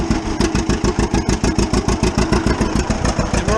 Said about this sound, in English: I always like the sound of them 2 cylinders